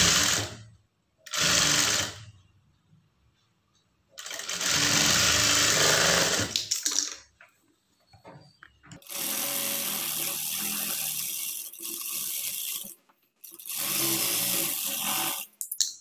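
A sewing machine stitches a lined blouse in loud bursts of rapid whirring, each a few seconds long, with short quiet gaps between runs.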